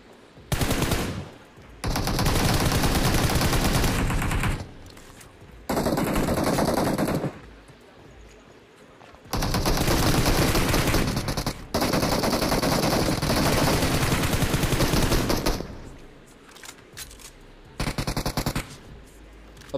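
Gunfire in a mobile shooting video game: long loud bursts of automatic fire broken by short quiet gaps, close and harsh, with no talking.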